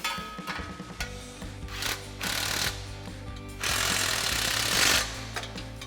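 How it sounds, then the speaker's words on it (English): A 14mm socket on a swivel and extension tightens exhaust flange bolts while a Magnaflow Street Series exhaust is fitted to a 2022-2024 Toyota Tundra, giving rapid ratcheting clicks and metallic chatter in short bursts with brief pauses. "we're gonna tighten that down with a 14mm socket,"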